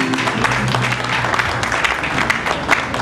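Church congregation clapping together as a clap offering, a steady dense wash of hand claps filling the room with some voices mixed in, loud and close throughout.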